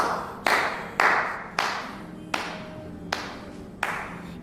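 Six separate loud claps land at slow, slightly uneven intervals, each sharp and close, during a televised competition episode.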